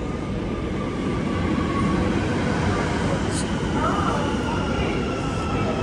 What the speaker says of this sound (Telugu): వెనకాల ట్రైన్ వచ్చింది, మా ట్రైన్ రాలేదు.